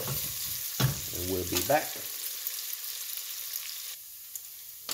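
Bacon fries and renders in a pot for Creole cabbage, giving a steady close crackling sizzle throughout, with a brief voice speaking over it early on.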